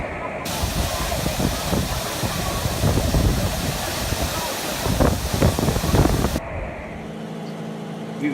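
A waterfall near Siem Reap roars as a broad, constant rush of falling water, loud and close, with wind buffeting the microphone before the sound abruptly drops away near the end.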